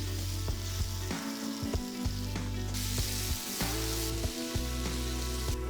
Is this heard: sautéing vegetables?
yes